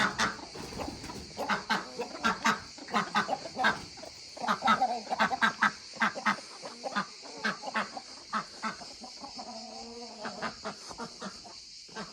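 Chickens clucking repeatedly in short, irregular bursts, fairly close, with a few longer calls and a steady high background hiss.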